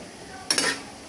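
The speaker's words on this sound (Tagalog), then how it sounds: "Haluin." Brief scrape and clink of a utensil stirring an egg and vinegar mixture with pepper in a bowl, one short burst of stirring lasting about half a second amid quiet.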